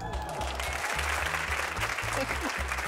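A game show studio audience bursts into loud, sustained applause with a crowd clapping close and continuous, while a voice talks over the clapping.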